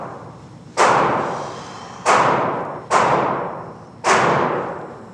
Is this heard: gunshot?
yes